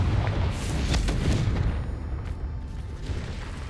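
Booming spell blasts in a Hogwarts Legacy fight, a Confringo fire spell bursting with heavy low rumbles and bright crackling hits that repeat through a dense, continuous battle din, loud and close.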